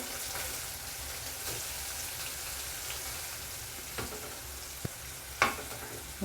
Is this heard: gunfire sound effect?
no